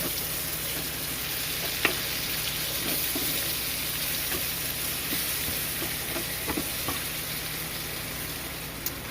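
Shrimp and vegetables fry in a pan while someone stirs them. A continuous close sizzle runs throughout, broken by a few light scraping and tapping sounds from the stirring.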